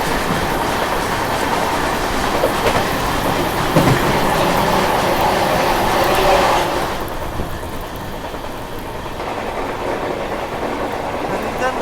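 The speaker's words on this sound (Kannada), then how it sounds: "ಬಾಂಗ್ಲಾದೇಶ್ ಟ್ರೈನ್." Bangladesh train passing close by, a steady loud rumble of wheels and carriages with rhythmic clatter that eases slightly toward the end.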